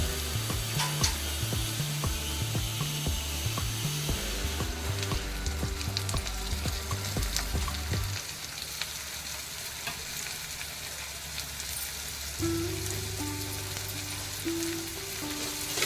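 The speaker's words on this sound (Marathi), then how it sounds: "आता आपण यामध्ये हे खाडे टाकू" Dried fish (khade) frying with cooked onion in a pan, a continuous sizzle with rhythmic scraping and clinking of a spatula that settles into steadier frying noise partway through.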